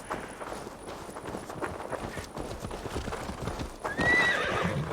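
A horse in Assassin's Creed Valhalla clops its hooves steadily and close by, then lets out a loud, shrill neigh near the end.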